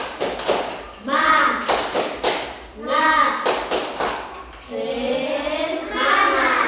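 Children perform a rhythmic spirit clap in a classroom, sharp bursts of clapping in a patterned beat alternating with their loud group chanting voices.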